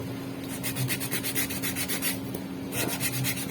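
Steady rasping rubbing of sandpaper on a worn rubber shoe sole, a rhythmic back-and-forth scrape, close up, continuing without pause and no voices.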